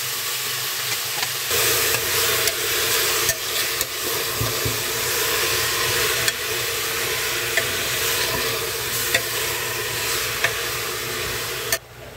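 Meat sizzles loudly in a hot pan, a steady crackling hiss with occasional clicks and stirring scrapes, no talking.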